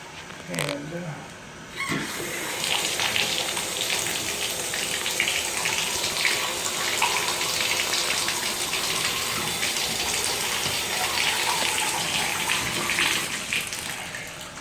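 Water gushes steadily from a bathtub spout in a house at 8454 Cascade Ridge Dr, a loud continuous splashing rush that starts after a brief bump and runs for more than twelve seconds, with a voice speaking over it.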